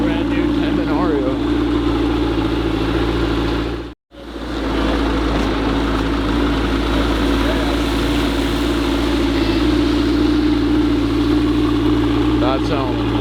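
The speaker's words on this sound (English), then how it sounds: "Listen to it. That's the exhaust. Twin turbo V8 hybrid." Lamborghini Temerario twin-turbo V8 hybrid supercar idling steadily with a deep, constant exhaust drone, close and loud, broken by one brief cut-out of sound partway through; faint talk can be heard in the background.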